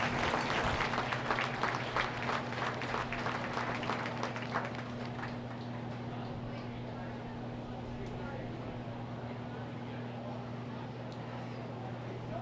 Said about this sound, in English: Let's give everybody a round of applause one last time.